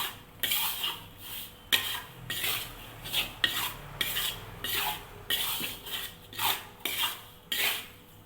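Sago is stirred in a pan for oseng sagu, a utensil scraping and rubbing against the metal in steady repeated strokes, close and clear with no talking.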